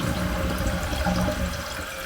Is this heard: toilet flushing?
yes